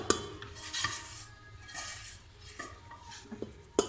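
Thick homemade cream puff dough is scraped from a bowl into a beater machine's mixing bowl, giving a few close clinks and scrapes of utensil on metal bowl with quiet pauses between them.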